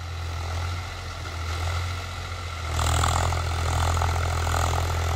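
Swaraj 744 XT HLM tractor engine running steadily with a deep low rumble, the throttle picking up partway through into a louder, rougher drone, close and without talk.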